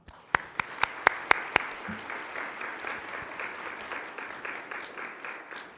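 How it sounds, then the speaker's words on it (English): An audience at a nonprofit forum breaks into steady applause, opened by a few sharp individual claps before the crowd fills in with a dense, moderately loud wash of clapping that holds through to the end. "I'd like to give all of those partners a round of applause"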